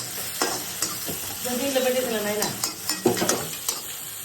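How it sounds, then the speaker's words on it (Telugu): Mutton masala fries and sizzles in a pan while a utensil stirs and scrapes repeatedly, steady hissing throughout with irregular clinks. "కాసేపు మనం ఫ్రై చేద్దాం"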